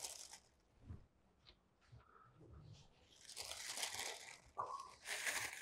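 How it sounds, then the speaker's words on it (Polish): Paper being grabbed and pulled away from freshly fried, golden breaded onion rings gives close crinkling and tearing rustles, building into a longer, louder crumpling burst toward the end. "łapiemy za papier."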